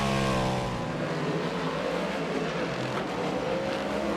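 Speedway motorcycles racing round a dirt track, their engines a loud, continuous, droning roar that holds steady throughout with no voices over it.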